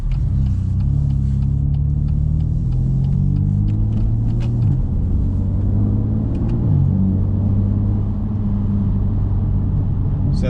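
Low, steady car engine and exhaust drone in Sport mode, holding a rumbling note with a couple of gentle pitch shifts and no sharp pops, constant and fairly close.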